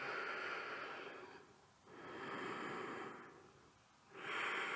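Slow, deep yoga breaths, each a long airy inhale or exhale swelling and fading in a steady rhythm, close and alone with no talk.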